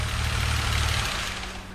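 A vintage car engine running on LPG gas idles steadily with a low, even rumble up close, then begins to wind down toward the end.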